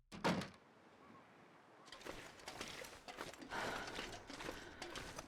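A house door in The Long Dark opening with a sharp wooden thunk, followed by creaking and rustling movement, close but quiet, with no talking.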